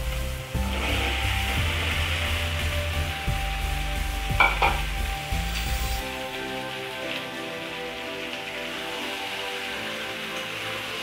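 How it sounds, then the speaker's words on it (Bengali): Potatoes hit a hot pan and sizzle while being stirred for aloo dum, a loud crackling fry with scraping stirs that eases to a softer steady sizzle after about six seconds. "হয়ে গেছে, এবার আমি আলুগুলোকে দিয়ে দিচ্ছি।"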